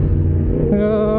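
Yamaha MT-10SP motorcycle engine at full throttle, a loud, steady roar that steps up in pitch partway through as it accelerates hard, close and continuous throughout.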